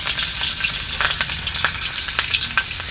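Green chillies and capsicum pieces fry in hot oil for chicken fried rice, with a steady close hiss and frequent crackles and pops. Occasional stirring scrapes sound in the pan, and no one speaks.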